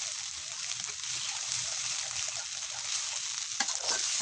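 Coconut milk being stir-fried in a pan until the oil separates, for a Thai spicy beef curry with eggplant, making a continuous dense bubbling sizzle with a single scrape of a utensil near the end.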